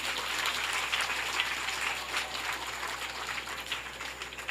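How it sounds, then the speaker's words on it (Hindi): Audience applause for a devotional song at a religious discourse gathering, a steady, moderately distant patter of many hands clapping that holds for several seconds. "एक जोरदार तालियां हो जाएं इस गीत के लिए"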